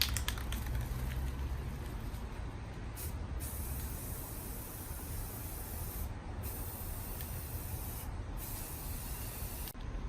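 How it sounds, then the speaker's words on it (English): A can of Rust-Oleum paint and primer sprays continuously outdoors on porch or yard items, a loud close steady hiss with a few brief pauses where the nozzle is released. "We're just going to start spray painting and see how they look."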